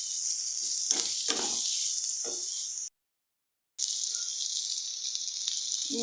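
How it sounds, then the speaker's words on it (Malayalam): Chopped tomato and curry leaves fry in a pan for egg roast, giving a steady close sizzle with a few brief stirring scrapes, cut by a short silent gap before the frying resumes. "വഴന്ന് കിട്ടും വരെ നമുക്ക് ഇതിലോട്ട് നമുക്ക് 1 തക്കാളി അരിഞ്ഞത് ഇട്ട് കൊടുക്കാം."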